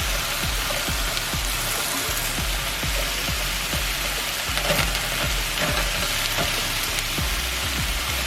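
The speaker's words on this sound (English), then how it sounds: "Mushrooms are still cooking. Cooking up nicely." Mushrooms sizzle and fry steadily in a pan, giving a continuous crackling hiss with small rhythmic pops and no talking.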